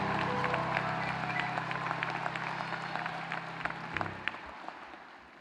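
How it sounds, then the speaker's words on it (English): Audience applause rings out for MBA graduates at a business school commencement, a moderate wash of clapping beneath a low steady hum that tapers toward the end. "One more round of applause for the 2019 graduates of the Professional MBA program"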